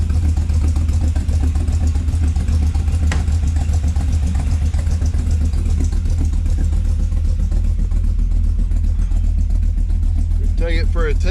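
A car engine runs steadily while the vehicle sits on a lift after a Turbo 350 transmission leak repair: loud, continuous low drone with a faint clatter, unbroken throughout.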